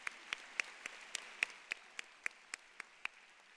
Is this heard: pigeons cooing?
no